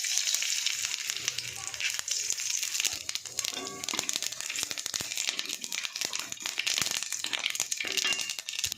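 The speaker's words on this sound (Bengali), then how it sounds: "মাছ ভাজা হয়ে গেছে, আর এই যে একটু সর্ষে ফোড়ন দেবো।" Mustard seeds and dried red chilli are tempered in hot oil after fish has been fried, giving a bright, crackling sizzle with scattered pops and spatters, steady and close throughout with no voices.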